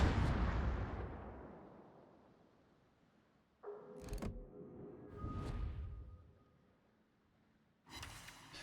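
Heavy cruiser guns of the American T8 cruiser Anchorage boom in a naval battle game, a big salvo rumbling and fading slowly, then further separate blasts and whooshes of shells, loud and close with little talk.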